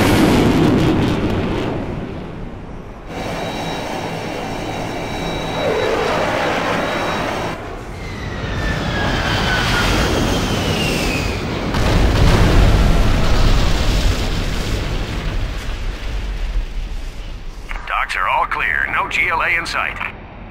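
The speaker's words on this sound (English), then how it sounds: "Launching airstrike." Airstrike explosions in Command and Conquer: Generals Zero Hour, heavy booming blasts and rumbling impacts rolling through the battle, loud and close, mixed with jet whooshes, game music and radio chatter.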